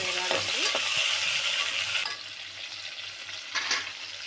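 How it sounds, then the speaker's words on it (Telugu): Onions, curry leaves and tomato frying and being stirred in a pan for a Rayalaseema-style Kadapa fish curry, with a steady close sizzle and occasional scraping stirs, no talking. "ఎర్రగడ్డలు, కరివేపాకు, టమాటా, ఇవన్నీ బాగా వేగాలండి."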